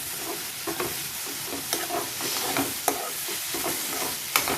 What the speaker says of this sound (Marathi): हाही आपण 1 मिनिट मोठा गॅस करून चांगला परतून घेऊ मसाला